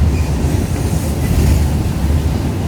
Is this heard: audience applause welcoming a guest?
no